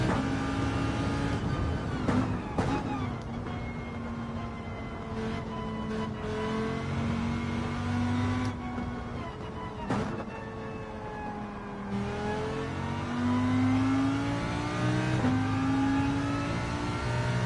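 Lamborghini engine in the Gran Turismo 7 racing game revving and shifting through gears, with a steady rising and falling engine drone and several sharp gear changes over continuous loud game audio.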